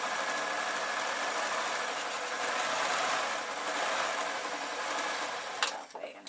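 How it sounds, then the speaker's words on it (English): A sewing machine runs continuously, stitching the underarm seams of an artist's smock, a steady even whir that cuts off abruptly near the end. "then I can carry on sewing round till where I started"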